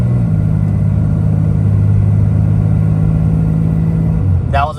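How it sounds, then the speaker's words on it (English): Ram Cummins 6.7 diesel truck with an upgraded intercooler boost tube, engine running at quarter throttle with a steady, loud low drone throughout and a brief whistling rise at the very end. "That was about quarter throttle. Turbo brake sounds great."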